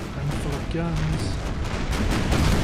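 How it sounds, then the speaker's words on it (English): Warship cannons fire a broadside in the video game Empire: Total War during a naval battle. A dense, loud volley of overlapping booms and blasts rolls on continuously. "Fire a partial broadside just to see if we can upset them."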